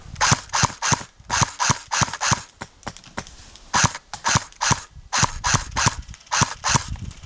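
Airsoft gunfire at a milsim event, heard as rapid, sharp, snapping shots fired in quick bursts and strings. The shots stay close and fairly loud throughout, with no talking.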